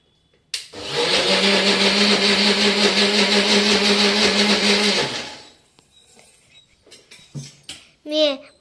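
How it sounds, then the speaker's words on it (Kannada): A mixer grinder churns cream into homemade butter with a loud, steady whirring roar for about four and a half seconds before cutting off, followed by brief voices and faint kitchen noise. "ಇವಾಗ ಇದನ್ನ ಫಸ್ಟ್ ಮಿಕ್ಸಿ ಮಾಡ್ಕೊತಾ ಇದ್ದೀನಿ"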